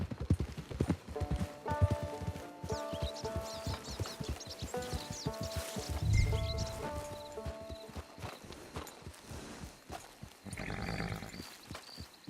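Horse hooves clip-clop steadily in Red Dead Redemption 2, a close, regular walking rhythm over a bed of game music, with a brief louder thump midway.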